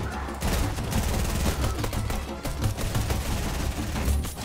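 Rapid, dense gunfire crackles nonstop in a Fortnite Battle Royale match, with overlapping bursts and shots at a steady loud level.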